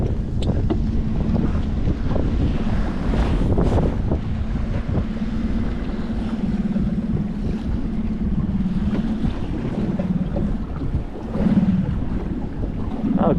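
Wind and sea waves around a fishing boat on open water, loud buffeting wind noise over a steady wash and slap of water, continuous and close with no talk.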